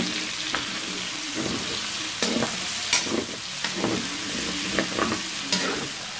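Binagoongan is stirred as it fries in a pan, with a steady close sizzle and a spoon scraping and clinking against the pan at irregular intervals.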